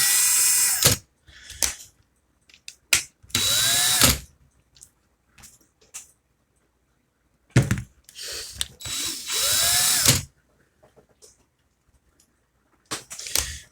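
A power drill whirs in several short bursts, revving up and stopping, separated by quiet pauses and occasional small clicks.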